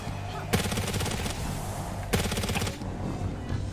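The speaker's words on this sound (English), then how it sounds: "There's a gunshot." Gunshot sound effect fired from a streamer's audio mixer during a New Year's stream, two loud bursts roughly a second and a half apart, each with a crackling rattling tail over steady background noise.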